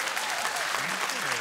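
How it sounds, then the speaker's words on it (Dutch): Steady audience applause fills a Dutch televised debate studio, a dense, even patter of many hands clapping at moderate volume throughout with no break. "U vraagt zelf om een applaus."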